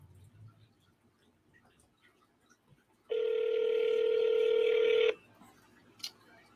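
A phone dial tone hums steadily for about two seconds, a clear, loud, sustained electronic tone with faint room noise before and after and a small click at the end.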